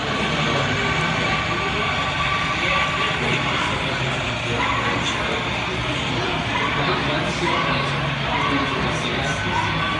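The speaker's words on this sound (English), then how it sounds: "the train slows down here because it's approaching the station" An N scale Kato Amtrak P42 model train with DCC control rumbles steadily along its track for the whole stretch, slowing as it nears a station, with a busy, continuous clatter and faint voices murmuring in the background.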